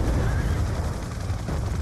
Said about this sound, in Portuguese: Ai, que explosão, que cena maluca